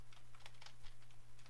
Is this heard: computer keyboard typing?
yes